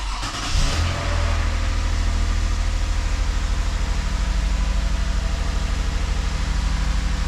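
A car engine with a repaired P0368 fault fires up with a brief cranking burst, then settles into a steady, close, even idle that carries on alone.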